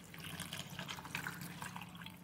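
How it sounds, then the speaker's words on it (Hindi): Two glasses of water poured into pineapple punch with ice cubes, a soft, continuous faint splashing trickle. "और अब ऐड करेंगे दो ग्लास पानी"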